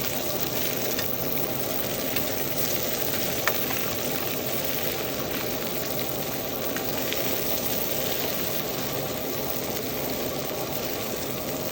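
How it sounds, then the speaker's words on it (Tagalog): Cream dory fish fillets frying in a pan of oil, a steady dense sizzle and crackle with continuous bubbling, close and even throughout with no talking. "Ayan, ganyan na itsura ng ating piniprito guys"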